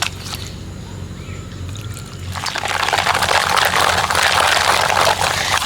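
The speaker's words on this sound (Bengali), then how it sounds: "যতটা পরিমাণে দুধ লাগবে দুধ দিয়ে দিতে হবে" Milk pours into a semolina and ripe palm pulp batter, a soft splashy pour that grows louder and fuller halfway through and keeps running to the end.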